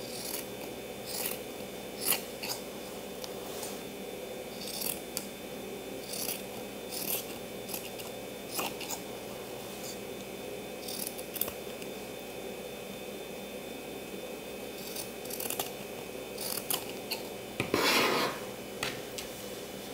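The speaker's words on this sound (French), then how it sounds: "Et je vais couper les marges à 5 mm du bord." Scissors cut fabric seam margins with steady, soft, repeated snips and rasps over a faint constant hum, close and moderately quiet, with one louder scrape near the end.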